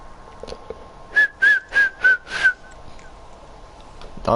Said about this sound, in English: I actually learned how to whistle.